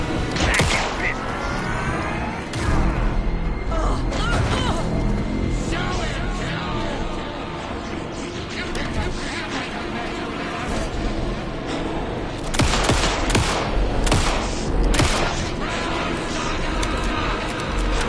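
Dense gunfire rattles through a video game firefight, with bursts and heavier booms layered over a constant loud din, and voices speaking at times.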